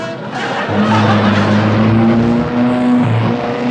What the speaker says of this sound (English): that is a car. It's used for transportation and air polluting.